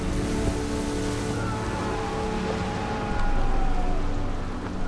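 Storm wind and surging waves on the sea make a steady, loud roar of wash and rumble that swells stronger toward the end, with no voices.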